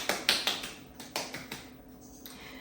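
A single person claps their hands for themselves, a short run of sharp, separate claps, fairly close and moderately loud, with no talking over them.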